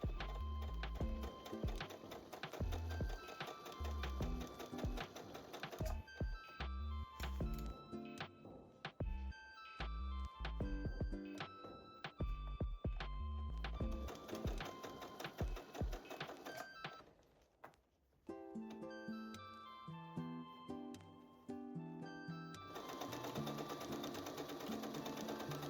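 A sewing machine runs a straight 2.5mm stitch in steady rapid bursts, pausing briefly between runs, loud and close with no talking.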